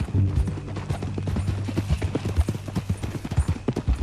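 Horse hooves clip-clopping in the Red Dead Redemption 2 video game, a loud, close, continuous run of quick hoof beats with some low background rumble.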